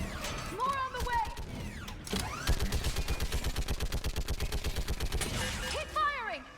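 Rapid automatic gunfire from the video game Mass Effect 3 bursts out in a fast, even string of shots after a brief opening clatter, with a voice speaking before and after the firing.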